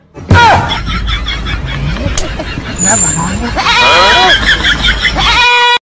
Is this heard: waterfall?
no